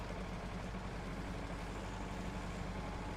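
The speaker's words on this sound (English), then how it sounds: "The power of the tractor, though, to climb right over it." Tractor engine in SnowRunner labouring as it climbs over a tree root, a steady loud low diesel rumble and drone throughout with no pauses, heard alone.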